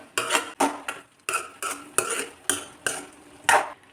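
Chopped banana stem is sautéed in oil in a pan, with a spoon stirring and scraping in a steady rhythm of about two strokes per second over a faint sizzle, close by.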